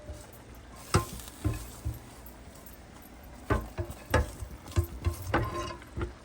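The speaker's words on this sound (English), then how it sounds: "The saag with the broccoli, the spinach with the broccoli. Let's give it a stir." Spinach and broccoli saag gets stirred in a pan, a utensil scraping and knocking in irregular strokes over a soft sizzle, close and moderately quiet.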